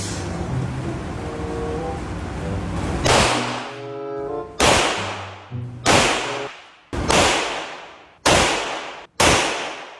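A custom-made gun barrel is test-fired at a firing range. Six sharp, loud reports crack out at irregular intervals, each decaying quickly, over a background of ambient noise.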